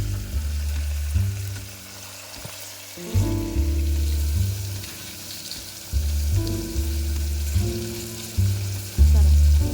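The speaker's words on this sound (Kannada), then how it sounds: "ಸ್ವಲ್ಪ ಕರಿಬೇವು, ಈರುಳ್ಳಿ ಹಾಕಿ ಮಿಕ್ಸ್ ಮಾಡ್ಕೋಬೇಕು" Curry leaves and onion fry in a pan for a vegetable pulao, giving a continuous sizzle while they are stirred. The loudness rises and falls with the stirring, and a low hum sits underneath, close and moderately loud.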